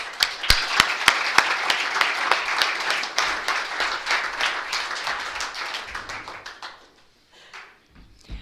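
An audience at a recovery meeting gives a round of applause for the evening's speaker, with dense clapping that holds steady, then thins out and fades near the end.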